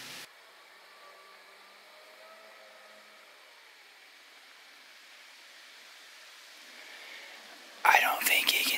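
Wind blows through trees outdoors on a hot, smoky day as a faint, soft, steady rush, with a louder burst of noise right at the end.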